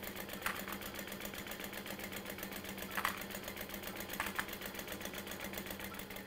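A sewing machine runs steadily while stitching the side seam of a tote bag, a fast even mechanical chatter with a few louder clicks, quiet and without talk.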